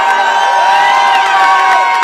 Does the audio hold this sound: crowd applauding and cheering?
yes